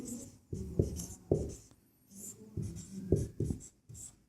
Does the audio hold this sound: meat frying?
no